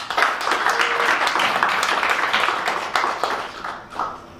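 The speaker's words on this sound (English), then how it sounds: "That needs a round of applause" An audience claps at a live water demonstration, a brief burst of lively applause that stays loud and dense, then thins and fades toward the end.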